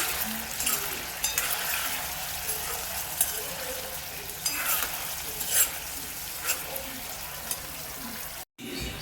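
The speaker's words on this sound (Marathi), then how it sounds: "हलके हलके असे तेलामध्ये फ्राय करते मी" Paneer pieces frying gently in oil. A steady close sizzle runs throughout with scattered crackles and pops, and it cuts out briefly near the end.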